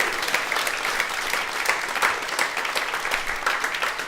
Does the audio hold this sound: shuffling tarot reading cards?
no